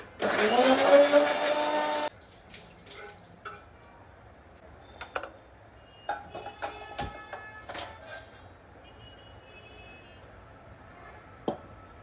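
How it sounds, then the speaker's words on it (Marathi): A kitchen mixer grinder whirs loudly for about two seconds and then stops, followed by scattered clicks, taps and quiet household clatter. "मला आवडीच काम असतात मिक्सर लावायची"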